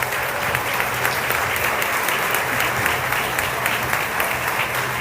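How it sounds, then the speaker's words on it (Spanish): At the opening of the Filgua 2025 event, an audience keeps up loud, sustained applause, a dense and even roar of many hands clapping close by with no voices over it. "se escuchen esos aplausos"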